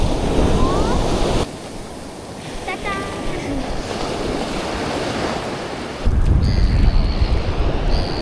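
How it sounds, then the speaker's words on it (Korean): Sea waves wash and roll onto a beach during a shellfish-gathering outing, a steady surging roar mixed with wind buffeting the microphone, with faint background sounds over it. "잠깐 바다 구경을 하고 있습니다"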